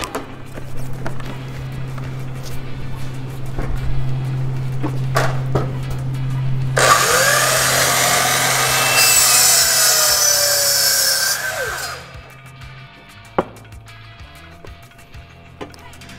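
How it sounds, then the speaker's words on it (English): A power saw, likely a miter saw, cuts through a piece of found yard lumber, a loud sustained whine with a rising and falling tone lasting about five seconds, set between quieter rustling and handling sounds. "you're gonna use a miter saw to cut your lumber."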